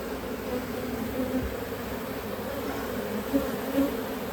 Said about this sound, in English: Look at all these bees though.